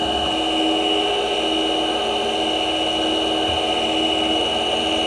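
A rotating tool bit scrapes a metal surface while a hand engraving tool is being made, producing a loud, continuous whirring hiss that holds steady throughout.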